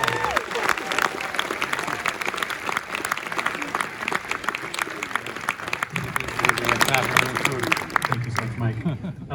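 Loud, dense applause from a theater audience at a 70mm Star Wars special screening, sustained clapping with scattered cheers and crowd voices mixed in throughout.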